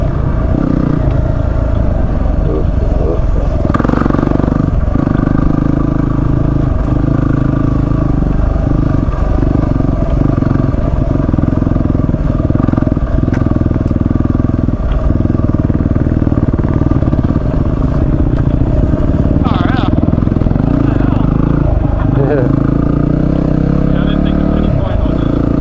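Motorcycle ridden in third gear along the rough, wet Holland Track, its engine droning steadily and loud throughout with clattering from the terrain, while riders talk over it.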